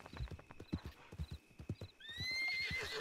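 Horses in the RedM roleplay game clop along with rhythmic hoofbeats, then one lets out a clear, drawn-out neigh near the end; the sound is fairly quiet, with no talk over it.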